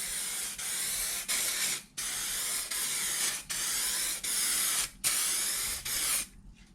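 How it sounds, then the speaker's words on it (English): Hydro dipping activator is sprayed from a can onto a motorcycle part in a series of close hissing bursts, each about a second long, separated by short pauses. "Okay, so now we need to spray activator."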